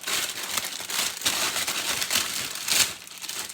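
Plastic bag of organic kale crinkling and rustling close up in a continuous, uneven burst of crackles lasting a few seconds.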